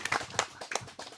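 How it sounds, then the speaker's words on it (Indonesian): A small group claps briefly for a priest, Romo Vikjen of the Denpasar diocese, at an opening ceremony in Tambora. The applause is light, uneven and close. "kita berikan tepuk tangan untuk Romo Vikjen"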